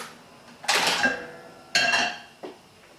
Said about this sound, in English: So I'm just going to get the wok on now.